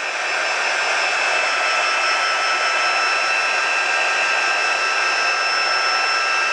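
A heat tool blows a loud, steady, high-pitched hot-air roar while drying gesso, unbroken from start to finish with no other sounds.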